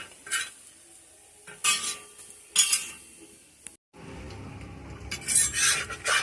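Crispy tiffin frying over low heat in a pan, scraped with a spatula in several short rasping bursts over a steady faint sizzle, near and fairly loud, with no talk.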